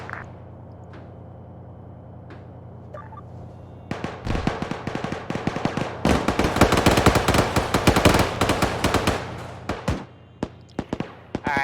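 Mounted machine gun on an M113 armored vehicle in a military video game, firing sustained loud bursts of rapid automatic fire after a quiet stretch, then tapering into scattered shots.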